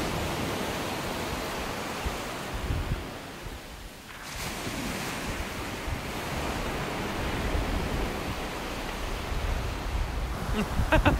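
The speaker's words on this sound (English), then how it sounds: "the waves and the wind and the sunshine and the salt in the air." Sea waves and wind on an English seaside beach form a steady, loud broadband roar, with surf washing continuously and a brief lull midway before the rush returns.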